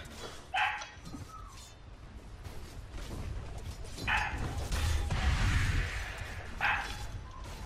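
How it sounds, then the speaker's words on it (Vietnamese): A dog barks in the background in a few short bursts, spaced several seconds apart and moderately distant, beneath dense noise from a game voice chat session. "chó kêu hoài ra"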